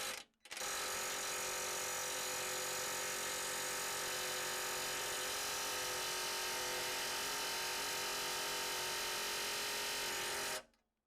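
A Milwaukee M12 cordless power hammer cuts through a 1/4 inch bolt, a loud continuous rapid-fire mechanical buzz that runs unbroken for about ten seconds after a short start-up blip.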